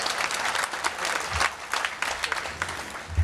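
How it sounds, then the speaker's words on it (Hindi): Audience applause for an AYUSH minister at a TV channel launch event in Bengaluru, a sustained wash of clapping from a large crowd, steady and fairly close. "जोरदार तालियां हो जाए इनके लिए।"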